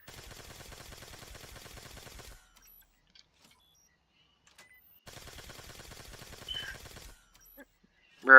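Rapid automatic gunfire pours into a tank in Garry's Mod in two sustained bursts of evenly spaced shots, separated by a few seconds of near silence, with a short sharp sound at the very end.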